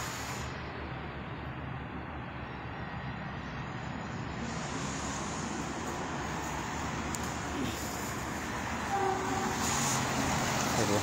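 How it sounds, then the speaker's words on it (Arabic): A train at the Kenitra railway station in Morocco on a cold night, a steady low rumble of rail traffic with a faint horn-like tone and distant hiss, heard without talk. "هذا هو القطار، هذا هو المحطة القطار ديال مدينة قنيطرة."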